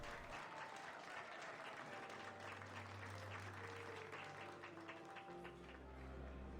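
Crowd applause at a party in the video game Mass Effect 2, a dense, steady clapping that fills the whole stretch, with a low hum of game music beneath it.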